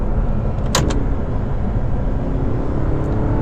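A 2009 Audi R8 4.2 with a six-speed gated manual gives a loud, steady engine drone from inside, with a brief click from the shifter early on.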